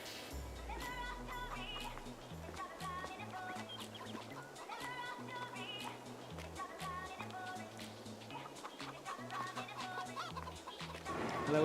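Chickens clucking in the Farming Simulator 22 video game, a steady chorus of overlapping clucks and calls over a low looping background hum, with no voices.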